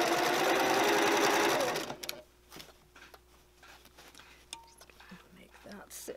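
A sewing machine stitches over the seams of a tote bag, running loud and steady for about two seconds before stopping; afterwards only faint handling clicks and rustles remain, with soft whispery sounds.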